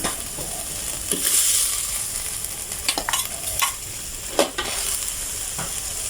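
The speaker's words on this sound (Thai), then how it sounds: "เอาลูกชิ้นลงไปผัดให้สุกก่อนนะคะ" Halved fish balls are stir-fried in a pan for a spicy Thai stir-fry, with a constant crackling sizzle, close and fairly loud, punctuated by several sharp scraping clanks of a spatula against the pan.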